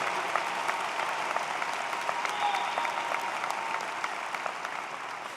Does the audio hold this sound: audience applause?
yes